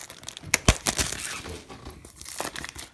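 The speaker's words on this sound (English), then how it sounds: "Okay, so I'm unwrapping the plastic." Plastic wrap is peeled and crinkled off an Akira package, with sharp close crackles and tearing bursts early on and softer rustling afterward, and no voices.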